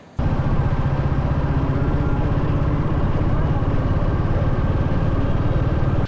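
A Royal Enfield Classic 350, just back from a service, thuds along at a steady engine beat. The low, pulsing rumble stays constant and close from start to finish after a brief quiet opening.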